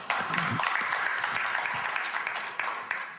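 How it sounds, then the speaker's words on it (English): Audience at a sales seminar applauds in a sustained burst of clapping, fairly close and dense, with a few sharper claps standing out. "Give them a round of applause."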